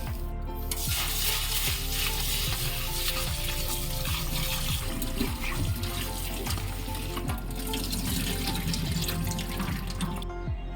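Rice and mixed lentils are washed in water in a pot, giving constant close splashing and sloshing with rattling grains and clinks against the vessel throughout.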